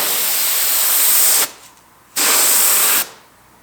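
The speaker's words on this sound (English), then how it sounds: "I'll come in here and just spray those inside areas" An HVLP spray gun spraying urethane trim paint hisses loudly in two long bursts, with a short pause between them and a trailing release at the end.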